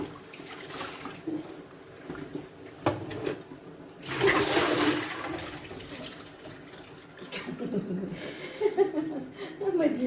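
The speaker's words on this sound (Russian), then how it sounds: "шумит, посуду моет." Tap water runs and splashes into a sink in bursts as dishes are washed, with people talking and laughing over it.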